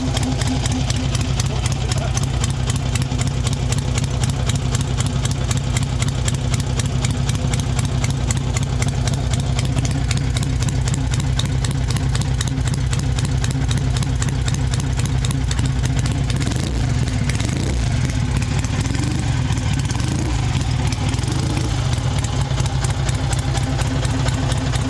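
A 1960 AJS 31 650cc motorcycle engine idles close by with a steady, loud, rhythmic thumping clatter for the whole stretch, with some faint voices underneath.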